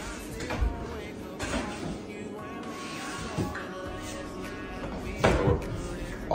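Wooden knocks, slides and bumps of a Raching Mon1800A humidor door opening and drawers being pulled out, several distinct thuds spread across the clip at close range.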